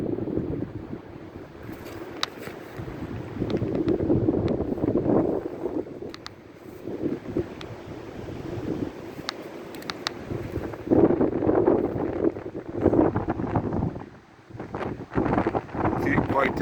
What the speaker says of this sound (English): Can't quite tell where it came from up there, but the wind is crazy.